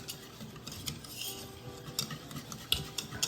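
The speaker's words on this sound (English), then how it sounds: "we're taking the butter and the sugars, and we're going to mix" Butter and sugars are mixed by hand for gluten-free buttermilk cornbread batter, with soft irregular scraping and stirring strokes and occasional light clinks of a utensil against the bowl, close and fairly quiet.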